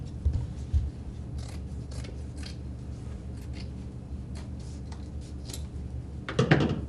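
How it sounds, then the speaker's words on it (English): Scissors snip through the thick seam ridge of denim jeans, a run of crisp repeated cuts close by, with a louder burst of handling noise near the end. "I'm going to just take my scissors and I'm going to cut that ridge off"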